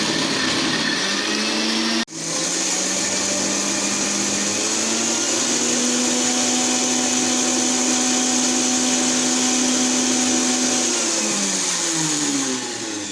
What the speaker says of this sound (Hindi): अब इसको ब्लेंड कर